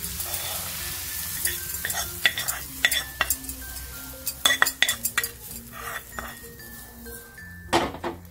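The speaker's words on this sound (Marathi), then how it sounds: "आणि हे फोडणी आता ह्याच्यामध्ये घालून घेऊया." A spoon stirs and scrapes as hot tempering is mixed into raw green tamarind chutney, with a brief sizzle, repeated metallic clinks and taps against the bowl in an irregular rhythm, close and fairly loud, with no talking.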